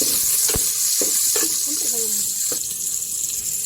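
Garlic, onion and ginger fry in a pan with a continuous bright sizzling hiss, broken by a few soft clinks and stirring sounds.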